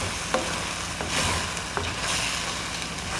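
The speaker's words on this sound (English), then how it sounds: "So we're just going to mix this first." Karahi chicken with tomatoes and onions is stirred in a hot pan, giving a steady sizzle with a few scraping knocks from the spoon, close and continuous.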